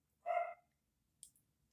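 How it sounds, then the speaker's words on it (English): A dog indoors gives a single short, sharp bark, fairly near and clear, followed by a faint click in otherwise quiet surroundings. "Dog's barking."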